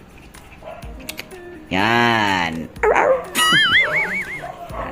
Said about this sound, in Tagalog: At saka isang aso din.